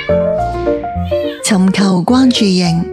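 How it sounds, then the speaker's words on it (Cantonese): A cat meows loudly and close in several drawn-out calls, overlapping with a voice speaking. "貓經常喺主人腳邊叫"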